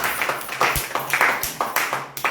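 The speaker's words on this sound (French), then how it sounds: "Et une fois encore applaudissez pour ceux qui ont répondu." An audience applauds at a French business presentation, a short burst of fairly close, brisk clapping from a small crowd that keeps going for a couple of seconds.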